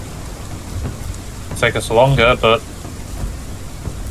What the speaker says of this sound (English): Rain, I really need you to go away.